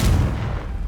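A Confringo blasting spell cast in Hogwarts Legacy, a single brief deep blast with a rumbling boom that fades quickly, loud and close, with no talking.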